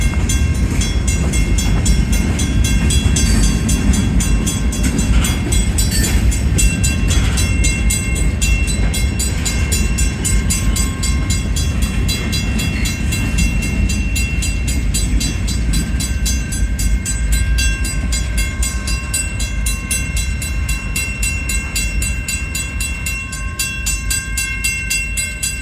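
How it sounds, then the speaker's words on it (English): Union Pacific freight manifest train passing slowly at a street crossing, a loud, steady rumble of rolling railcars with metallic squeals and ringing tones from the wheels, continuing throughout. "the end of the train is finally coming up"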